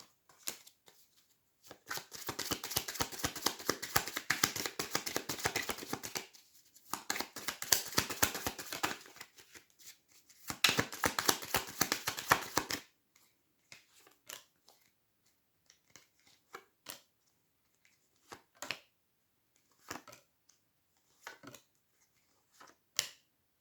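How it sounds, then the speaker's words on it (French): Tarot cards are handled on a table: several seconds of dense papery shuffling in three bursts, then a run of sharp, separate soft snaps and taps as cards are laid down one by one, close and fairly quiet. "je pose mes cartes"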